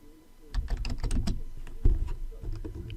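Quick, light clicks of typing on a computer keyboard, an irregular burst of keystrokes close up and quiet, with brief pauses between short runs.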